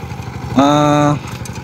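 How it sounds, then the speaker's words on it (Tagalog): A Yanmar 125 engine on a hand tractor runs with a steady low chugging pulse throughout, interrupted midway by a brief loud tonal whine. "yung makina po ay nasa 125 po na Yanmar itong nakakabit sa kanya"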